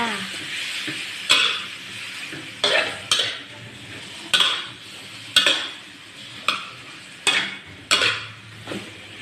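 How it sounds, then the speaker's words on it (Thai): Pork being stir-fried in a pan: a close, continuous sizzle broken by regular spatula scrapes and stirs about once a second, with no talking. "ใส่หมูลงไปค่ะ แล้วก็ผัดให้เข้ากันค่ะ"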